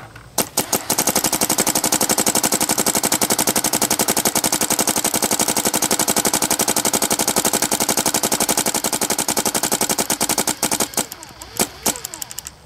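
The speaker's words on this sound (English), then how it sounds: "we're gonna do a shooting video with the new V-Max loader." A paintball marker fed by a Valken V-Max loader fires a long, rapid, steady stream of loud shots, then a few scattered final pops at the end.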